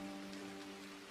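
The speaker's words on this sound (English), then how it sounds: "with the raindrops hitting the window" Raindrops patter steadily against a window glass in a soft continuous wash, with a faint low hum running beneath; no voices.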